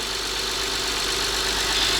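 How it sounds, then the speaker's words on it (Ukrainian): A car engine idles steadily with a constant low hum and mid-range drone, running evenly throughout with no talking. "запустив, двигун працює"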